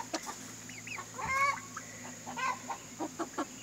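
Barred Rock hens cluck in short, close bursts, a few throaty calls scattered across a quiet homestead backdrop with a low steady hum underneath.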